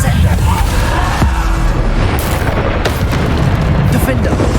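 Bombarda spell explosions in Hogwarts Legacy combat, heavy booming blasts layered over a dense, continuous wash of loud game noise with no clear pauses.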